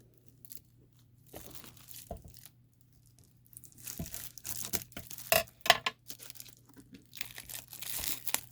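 Close scissors snip and rustle through the plastic and paper wrapping of a Christmas card pack, with crinkling and crunching bursts between quiet gaps and a steady low hum underneath.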